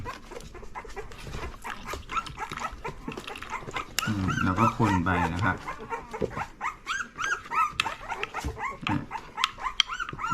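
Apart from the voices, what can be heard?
puppies whimpering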